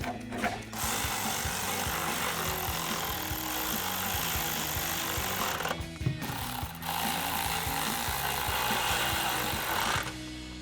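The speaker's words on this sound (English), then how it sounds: "we'll take that same 13mm swivel socket and tighten this down" A 13mm swivel socket tightening a bolt while installing an MBRP cat-back exhaust on a 2024 Ford Mustang GT, rapid continuous ratcheting clicks under a steady mechanical whir with brief pauses, close and fairly loud.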